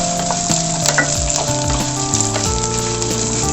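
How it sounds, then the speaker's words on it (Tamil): Small onions and dried red chillies fry in a pan for curry leaf chutney, a loud continuous sizzle close by with occasional stirring scrapes. "ஸோ சின்ன வெங்காயம் நல்லா ரோஸ்ட் ஆகட்டும்."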